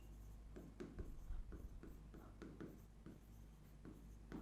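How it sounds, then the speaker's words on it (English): Handwriting an answer, likely with pen on paper: close, steady scratchy strokes in a repeated rhythm under faint low background hum. "let's write this answer then"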